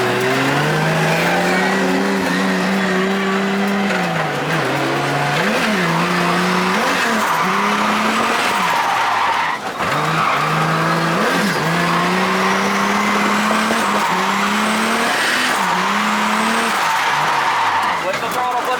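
A 500HP 2JZ-swapped BMW E36 drifts with loud, sustained tire squeal over a roaring engine whose revs rise and fall in repeated swells, with voices talking in the car throughout.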